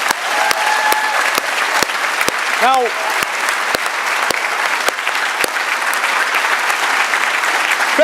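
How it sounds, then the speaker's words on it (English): Audience applause at a political speech during a pro-European referendum event, a steady dense clapping from a large crowd filling the whole stretch, with a brief spoken word near the start. "please give a big round of applause for the people who put this event together."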